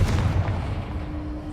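A Confringo spell blast in Hogwarts Legacy lands as one deep, booming explosion that rumbles on briefly.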